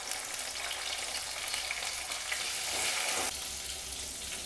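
Chopped garlic and tomato frying in a pan for chilli paneer, a steady close sizzle and crackle that swells briefly near the middle, with no voices.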